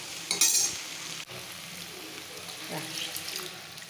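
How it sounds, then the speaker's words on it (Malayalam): Plain water poured into curry masala frying in a pan, giving a brief bright splash and sizzle near the start, then softer bubbling and stirring sounds, with a voice faintly present. "ഇനി നമുക്ക് ഇതിലേക്ക് വെള്ളം ഒഴിച്ചു കൊടുക്കാം."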